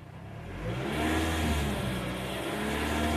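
A car engine is revved up to raise the RPM, rising from a low idle to a steady, higher-pitched drone and holding there, close by with no talk.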